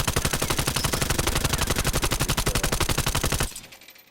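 A suppressed submachine gun in a first-person shooter fires one long sustained burst of rapid, evenly spaced shots, loud and close, then cuts off abruptly into a short fading tail.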